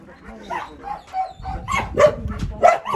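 Dogs barking at an animal shelter, a run of sharp yips and barks repeating roughly every half second, fairly close and loud over a busy background, with a person talking underneath.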